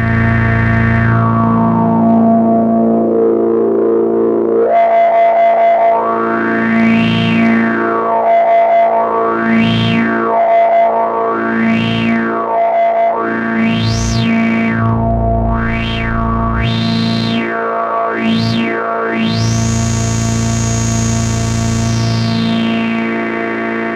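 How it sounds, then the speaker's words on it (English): An Oxford OSCar filter translation Eurorack module with high resonance sweeps a loud, distorted synth tone, and two whistling resonant peaks rise and fall together in repeated arcs over a steady droning base. "To make it more apparent that there are two peaks, we can turn up the resonance, and we can listen to them."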